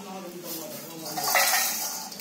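A cooked wheat-flour mixture being scraped out of a kadhai into a bowl, with soft metallic scrapes and clinks of a spoon against the pan, rising to a brief louder scrape near the middle.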